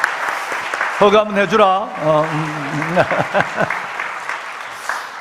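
Applause rises at a Christmas Sunday church service for the young accompanist, scattered clapping running beneath a nearby voice speaking in Korean.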